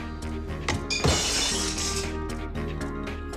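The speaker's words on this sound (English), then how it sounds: "Doesn't take long for the sound of breaking glass to smash out." Glass shatters in one loud crash, a breaking-glass sound effect dropped over background music, with bright tinkling fragments trailing off afterward.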